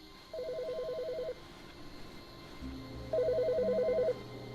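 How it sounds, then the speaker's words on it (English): A telephone rings in the video game The Stanley Parable, two warbling electronic ring bursts about a second long each, separated by a pause, with a low ambient hum underneath. "There's a phone ringing."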